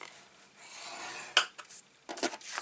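Scoring tool drawn along cardstock on a scoring board, heard as a few short, close rasping scrapes separated by brief pauses, with no talking.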